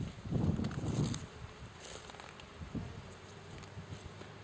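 Honey bees at a beehive beside a watermelon field, a soft buzzing hum with a few louder close passes early on, fading to a faint scattered drone with light rustling.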